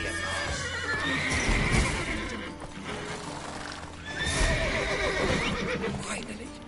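Horses neighing and whinnying in The Witcher 3: Wild Hunt, two agitated bursts of loud whinnies over restless hoof clatter, with a voice speaking amid the commotion.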